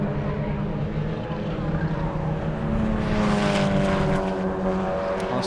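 Mazda MX-5 race cars at full throttle at Anglesey circuit in a 2013 BRSCC championship round, a dense continuous engine roar with shifting pitch as several cars pass close by.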